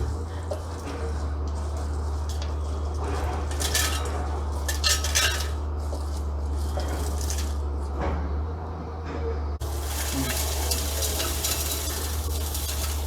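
Bay leaves and whole spices clatter and rustle into a small grinder jar for homemade garam masala, with repeated close, bright taps and scrapes over a steady low kitchen hum.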